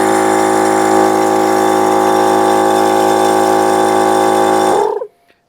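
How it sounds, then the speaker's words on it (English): 12V Thumper Max II air compressor running with a loud, steady motor hum and buzz, close up, then winding down and stopping near the end. "I'll start the compressor up and we'll have a look at the output from the bushy meter."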